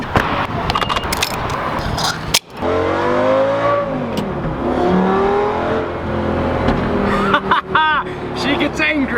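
An Audi R8 engine revs loudly nearby, rising and falling in long sweeping roars with a brief cutoff partway through, while voices and crowd chatter mix in beneath.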